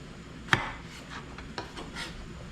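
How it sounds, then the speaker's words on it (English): A knife slicing zucchini on a board, with one sharp chop followed by softer cuts and rubbing scrapes, quiet and close. "So our zucchini, slice that down."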